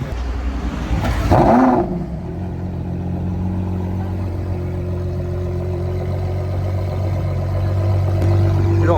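A supercar engine idles at close range with a steady low rumble, preceded by a short louder burst near the start and then holding an even, continuous hum through to the end.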